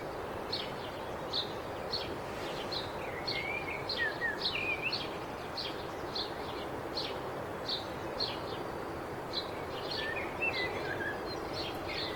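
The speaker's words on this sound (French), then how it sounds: "On écoute les petits oiseaux." Small birds chirp and sing repeatedly in spring, with short high twittering phrases scattered across a steady outdoor ambience.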